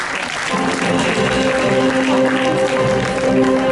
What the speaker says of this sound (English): Can you please have a huge round of applause for them,